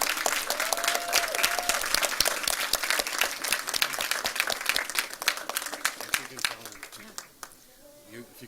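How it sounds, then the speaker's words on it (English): A school board meeting audience gives the student poets a big round of applause, a dense patter of many hands clapping near and loud that thins out and fades toward the end, with a few voices mixed in. "can we give one more big round of applause to all of our poets?"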